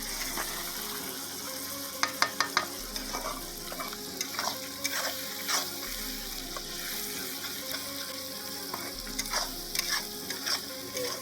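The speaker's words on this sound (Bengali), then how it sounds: "আর মশলা ভাজা চলছে এখন" Steady, loud sizzling of spices frying in a hot pan at an outdoor night picnic, with repeated scraping and clinks of a stirring utensil throughout.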